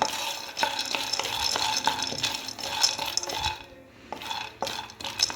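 Peanuts stirred and roasting in a little ghee in a pan: a steady close rattle and scrape of nuts shifted around under a light sizzle, with a brief lull, and no voices.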